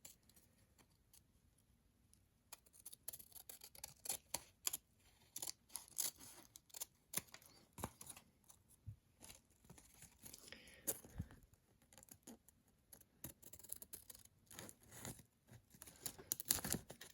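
Irregular snips and crisp crunches of scissors cutting through paper, close up, with bursts of rustling between cuts and no talking.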